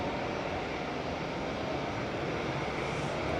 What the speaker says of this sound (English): The 747's operating on behalf of Emirates SkyCargo,